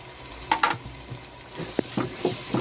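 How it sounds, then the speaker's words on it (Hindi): Chopped tomatoes with salt fry in a pan for vegetable pulao. A steady close sizzle runs throughout, broken by a few sharp clinks and scrapes of stirring. "टमाटर डालेंगे और साथ ही साथ हम नमक भी डाल देंगे, और भुनेंगे भी टमाटर को हम थोड़ा सा"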